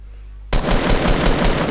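Rapid automatic gunfire in a shooter video game, a sudden loud burst of closely spaced shots starting abruptly after a brief quiet moment and continuing steadily.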